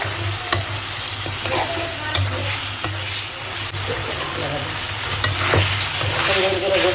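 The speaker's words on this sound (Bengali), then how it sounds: "গোসটা দিয়ে সুন্দর করে কষাইয়া" Chicken pieces stir-fried in spice paste, a steady loud sizzle with scraping stirs and occasional clacks of a spoon against the pan, continuous and close.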